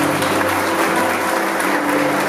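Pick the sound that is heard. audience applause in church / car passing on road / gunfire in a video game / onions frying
audience applause in church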